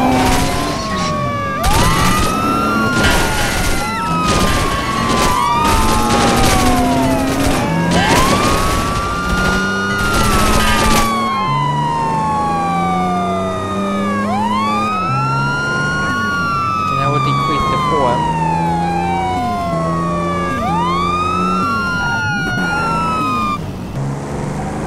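Police car sirens wail in GTA San Andreas, loud and close, with a fast warbling pattern that shifts to slower rising and falling sweeps halfway through, layered over engine noise.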